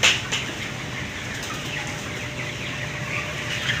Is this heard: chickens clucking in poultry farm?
yes